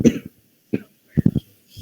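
A person coughs in a quiet room during a lecture, with one burst at the start, then a single cough, then a quick cluster of three close coughs and a faint trailing one, each loud and near.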